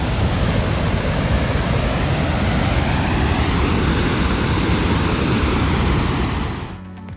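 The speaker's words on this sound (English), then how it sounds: "Dettifoss in northeast Iceland is known as the most powerful waterfall in Europe" Dettifoss in northeast Iceland, a waterfall 100 meters wide with a 44-meter drop, roars as a dense, unbroken wash of rushing water, loud and close, before cutting off abruptly at the end.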